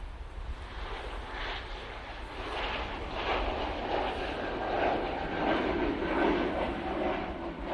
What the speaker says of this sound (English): Helvetic E2 going back to Zurich.